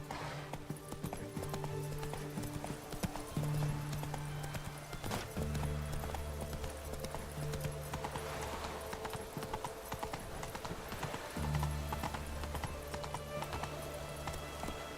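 A horse galloping in The Witcher 3: Hearts of Stone, with steady rhythmic hoofbeats over a soft background score and no talking.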